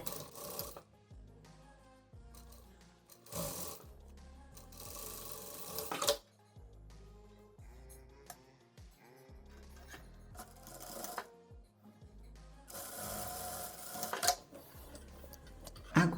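A sewing machine joins the shoulder seams of a loose dress with a 1 cm allowance, backstitching at the start and end, in short, close runs of rapid stitching broken by pauses and soft fabric handling, quiet overall, with no voices.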